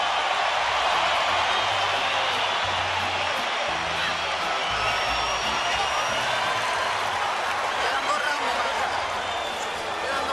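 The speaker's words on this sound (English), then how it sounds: "Crowd on their feet." A boxing crowd at the Canelo vs Golovkin fight roars in a dense, sustained wall of cheering and whooping, with commentators talking over the arena noise throughout.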